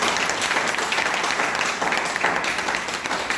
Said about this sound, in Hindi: एक बार तालियां चाहूंगा मैं